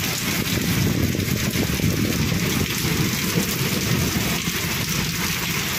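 Heavy rain pours steadily onto a balcony of a three-storey house, a dense, continuous roar of water that stays loud and close throughout with no voices over it.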